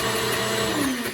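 Kitchen blender running steadily while mixing Sunday sauce ingredients, a loud, continuous whirring drone with a slight rise in pitch near the end, heard alone.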